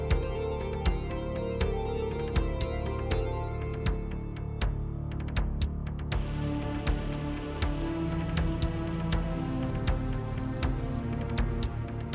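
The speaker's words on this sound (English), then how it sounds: "When the heavy rain is hitting the ground, it's composing a warning melody." Heavy rain pelts the ground on an island in Taiwan, a steady dense wash with scattered sharp drip impacts throughout, loud and continuous with no voices.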